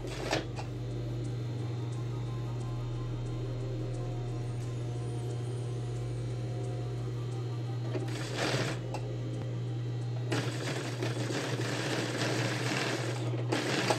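An electric sewing machine stitches the pocket facing on a pair of men's trousers. A steady mechanical hum runs throughout, with two louder bursts of fast stitching, one brief and one longer, near and alone.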